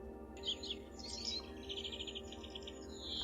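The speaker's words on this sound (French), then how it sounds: "juste les oiseaux" Small birds chirp and tweet in a quiet field recording that has been cleaned up, with a series of faint, bright calls over a low, steady background hum.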